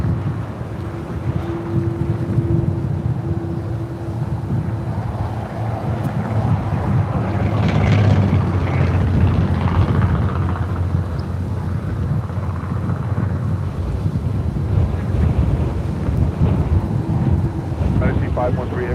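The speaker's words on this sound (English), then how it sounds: "China Airlines Cargo 777 freighter coming in from Taipei" A China Airlines Cargo Boeing 777 freighter arriving from Taipei lands at LAX, a broad, heavy jet rumble swelling midway under strong wind buffeting on the microphone, with voices faintly present.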